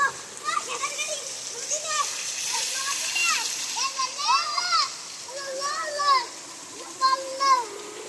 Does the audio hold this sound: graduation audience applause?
no